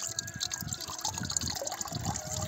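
Old, degraded transmission oil drains from a Ford 3610 tractor, a soft, continuous trickling and dribbling of liquid heard close up, faint and unbroken.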